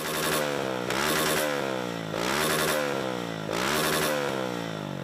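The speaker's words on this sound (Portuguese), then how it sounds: "Os escapes do tipo Cadron são utilizados em motocicletas e conhecidos por produzir um ruído excessivo" A motorcycle fitted with a loud, irregular Cadron-type exhaust revs hard in repeated bursts, each surge rising and falling in a raspy, aggressive roar, heard close and alone.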